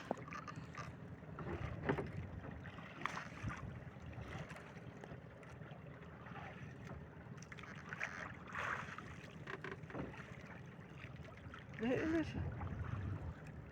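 Fishing boat engines drone steadily over choppy water and wind as the boats race, with a louder surge near the end as craft pass close.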